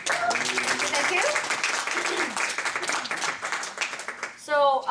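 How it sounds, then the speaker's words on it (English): An audience claps for a group of women after a demonstration, a dense burst of applause that fades over several seconds. Voices are heard through it. "can we give these ladies a round of applause?"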